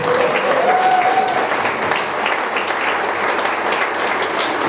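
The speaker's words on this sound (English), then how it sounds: "I'd like to give them a hearty round of applause" Sustained audience clapping at a Brisbane folk history book launch as guests walk up to the stage, a full, even burst of applause with a faint tonal call at the start.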